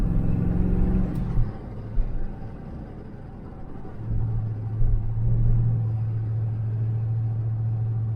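A 1978 El Camino SS V8 with headers rumbles low while driving on dry pavement, a deep steady drone that dips and then swells into a sustained throaty hum, close and fairly loud.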